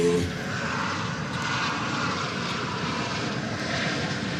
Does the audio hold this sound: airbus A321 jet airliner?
yes